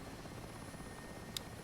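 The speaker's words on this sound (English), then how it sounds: "So now we have a started helicopter." Mi-8 helicopter engines and rotor running in the DCS flight simulator after a cold start, a steady, fairly faint broadband whine and drone with no talking over it.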